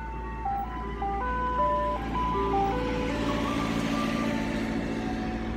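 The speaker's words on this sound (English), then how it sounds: "Hold on, ice cream truck." An ice cream truck passes by on a residential block, its tinkling jingle melody playing steadily over the low rumble of the vehicle's engine, fairly close and continuous throughout.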